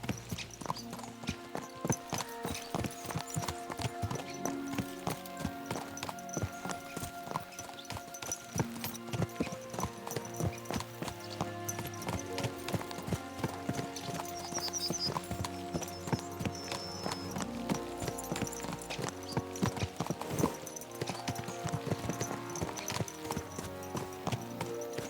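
Horses trotting in Kingdom Come: Deliverance II, a steady rhythmic clip-clop of hooves running throughout, mixed under a busy music score with occasional snorts.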